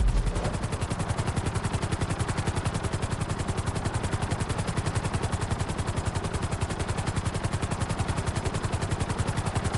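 A helicopter flies at full speed in GTA 5, its rotor chopping in a fast, steady, even pulse that stays loud and close for the whole stretch, with no talk.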